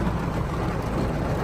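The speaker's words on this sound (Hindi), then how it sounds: "काफी तेज बारिश हो रही है" Heavy monsoon rain drums on a car from inside the cabin, a dense, unbroken hiss and patter holding steady throughout.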